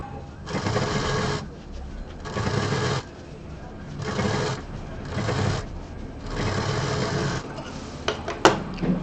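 Close, steady runs from a sewing machine stitching a folded edge on a handbag piece, about five bursts separated by brief stops, with a few light clinks near the end.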